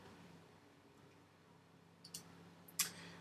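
Two faint, sharp computer mouse clicks land near the end of a quiet stretch, the second a little crisper than the first, with no talk.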